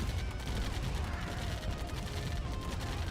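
Dense, continuous gunfire and explosions from a Command & Conquer Remastered battle as a construction yard comes under attack, a steady loud barrage with no clear gaps, mixed with faint crashes.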